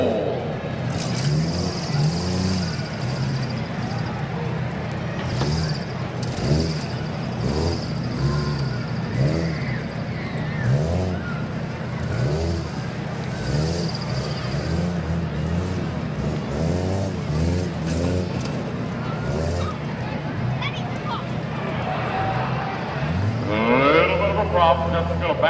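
Stock-division truck engine revving and idling on a rough-truck competition course at the Tuscarawas County Fair, a steady engine drone under continuous announcer talk through the whole stretch.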